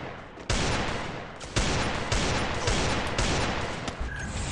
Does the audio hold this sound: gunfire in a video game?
yes